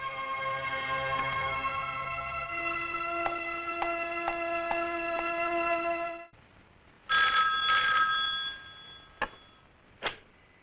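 A telephone rings in a police station in a movie scene, a sustained tonal electronic ring with ticking pulses for about six seconds, then brief bright bursts of ringing after a short pause.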